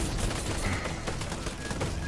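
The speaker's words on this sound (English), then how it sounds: "Yeah, keep shooting the caretaker." Gunfire in Fortnite, players shooting at the Caretaker: a dense, continuous burst of rapid shots with rumbling game action throughout, loud and steady with no talking.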